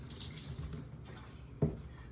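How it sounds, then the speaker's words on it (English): White vinegar poured over a maggot-infested possum during an animal rescue, a steady quiet trickle of liquid with a brief louder splash near the end, no talking. "we're just going to pour some vinegar there"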